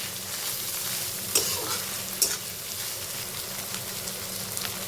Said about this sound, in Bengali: এখন এই মাছগুলোকে তেলের মধ্যে একটু ভেজে নেব।